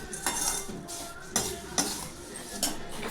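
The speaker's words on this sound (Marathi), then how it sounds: "आता आपले भाजके पोहे असे मी भाजून घेणार आहे असे सर्व." Flattened rice (poha) being roasted in a pan for chivda, with a utensil scraping and tossing the flakes, producing soft rustling and a few light metallic clinks, close and moderate.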